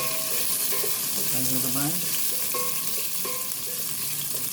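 Onion and garlic sauté in a pan over charcoal with a steady, close sizzle, while a utensil stirs and scrapes; a voice briefly speaks over the frying.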